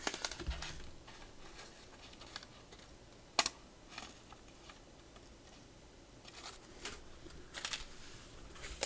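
Cyndi Lauper trading cards from an old wax pack are flipped one at a time close by, giving soft ticking taps and brief papery flicks spaced out over quiet handling noise.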